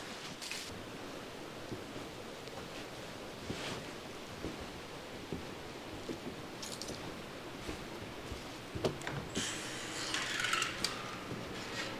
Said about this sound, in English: They liked the sound of the natural water flowing.